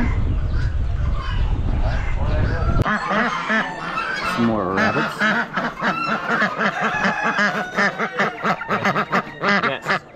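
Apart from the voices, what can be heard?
hen ducks quacking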